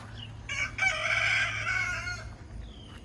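A backyard pet rooster lets out one loud, close crow lasting about two seconds, rising and then trailing off, over a low steady background hum.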